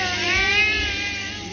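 A cat meows in one drawn-out, fairly loud wavering cry, heard close at a Songkran water-play outing in Thailand.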